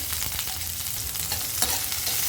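Small shallots, garlic cloves, curry leaves and a dried red chilli frying in hot oil for a tamarind gravy, a steady close crackling sizzle throughout with no talk.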